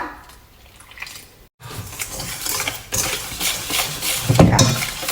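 Ice-cold water poured into a chicken meatball mixture with soy sauce and sugar in a bowl, a continuous close wet splashing and trickle with faint clinks of a utensil, growing slightly louder toward the end.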